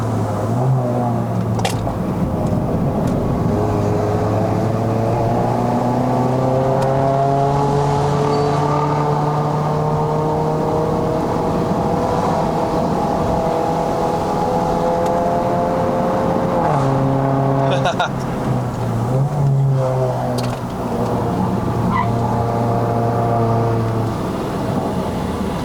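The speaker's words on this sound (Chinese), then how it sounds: "这样子一到高转的时候换挡哦，会有那种像 DSG 发烧的" An MK8 VW Golf 1.4 TSI R-Line with a DSG gearbox climbs the Genting mountain road in Malaysia, its engine droning loudly and steadily as revs build, with an audible dip and jump in pitch at a gear change near the end.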